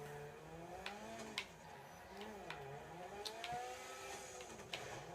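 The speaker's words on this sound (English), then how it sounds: "It sounds like a rally car." Rally car engine in the GTA 5 video game, an Audi Quattro-style car with a roll cage in Los Santos rally driving, droning steadily with shifting revs and a few sharp clicks throughout.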